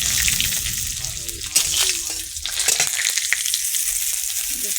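Dried red chillies crackle and sizzle in hot oil, a steady close frying hiss with occasional sharper pops and stirring clatter.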